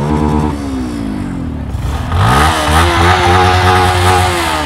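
Kawasaki Ninja ZX10R superbike engine revving loudly up close, a steady throttle blip that climbs sharply midway and holds a high, roaring pitch with no talk over it.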